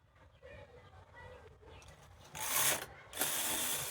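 A knitting machine carriage runs across a punch card row, giving mechanical ratcheting clicks followed by two loud, close sliding sweeps of the carriage.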